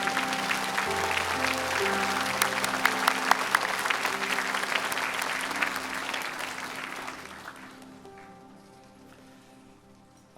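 A church congregation at a Sunday worship service claps to welcome visiting guests, a dense burst of applause that fades out over the last few seconds, leaving a low steady hum and soft tones.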